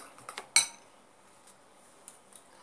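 A spoon clinks against a dish while slime is mixed, one sharp metallic strike followed by a few lighter taps in a quiet room.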